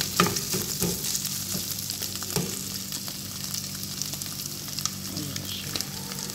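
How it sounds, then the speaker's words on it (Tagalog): Chicken sizzles and crackles steadily in a hot pan, with occasional louder pops and spatters and no one speaking. "Prito ko yung manok."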